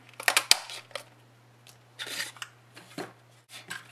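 Paper cut with a decorative label punch for a tissue holder craft, heard as a few sharp, close clicks and crunches followed by softer rustling handling noises, with a steady low hum underneath and no voice.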